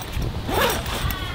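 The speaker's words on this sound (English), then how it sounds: "these zips on here too are a waterproof zip" A waterproof zip on a classic Australian canvas swag drawn along once in a steady, close pull lasting about a second, with faint background noise around it.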